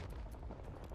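Gunfire in Rising Storm 2: Vietnam, a short dense burst of overlapping shots with a rumbling low end, loud and close throughout the one-second span.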